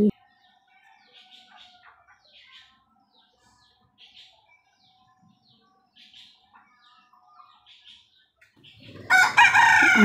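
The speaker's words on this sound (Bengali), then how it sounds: "মোরগের ডাক আমার 3টা মোরগে অনেক চিল্লাপাল্লা করে।" Faint bird chirps are scattered over a quiet yard, then a household rooster, one of three kept together, breaks into a loud, close crow at the very end.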